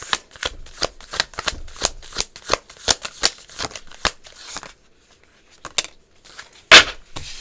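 A deck of tarot cards is shuffled in quick, rhythmic riffling bursts for several seconds, then a pause and one sharp final snap of the cards, all close and with no talking.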